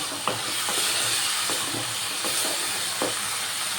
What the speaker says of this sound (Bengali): সেই মাছগুলো দিয়ে দিলাম দিয়ে আবারও মশলার সাথে ভালো করে কষিয়ে নেব